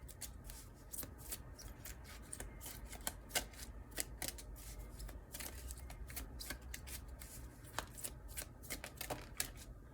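A deck of cards is shuffled nearby, with soft, rapid riffling clicks that repeat in irregular bursts for the whole stretch over a low background hum.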